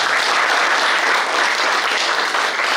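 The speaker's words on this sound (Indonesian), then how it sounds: "Tepuk tangan dong." Audience at a union federation's official opening ceremony in Bekasi applauding steadily, a dense, loud, even wash of clapping that holds throughout with no break.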